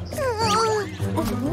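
A cartoon cat meows in a high, wavering voice, a drawn-out call followed by a shorter second meow, loud and close over soft background music.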